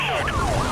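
A police siren in the racing game Need for Speed: Most Wanted (2005) wails in quick rising and falling sweeps, loud and close over a low engine rumble.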